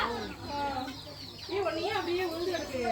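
Chickens and chicks cluck and chirp nearby in a busy, overlapping chorus, with higher peeping calls from the chicks among the deeper clucks.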